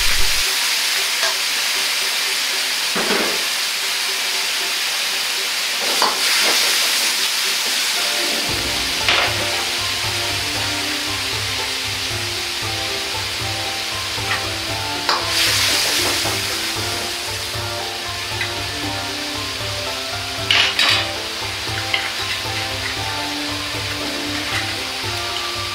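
Drained tofu goes into a hot pan of oil and water for mapo tofu, setting off a loud steady sizzle and bubbling that swells after the tofu drops in, with occasional spatula scrapes.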